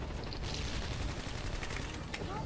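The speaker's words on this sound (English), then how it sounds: "I'm getting shot all over" Rapid video game gunfire in Zombies Monsters Robots on Skull Island, with Centurion enemies and a turret nearby, rattling in dense continuous bursts over a busy, noisy battle.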